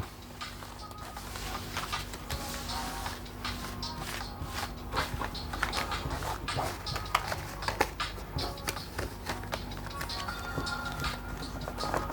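A deck of tarot cards being shuffled by hand, a close run of soft irregular riffling, tapping and patting card sounds over a quiet room hum, with no talk.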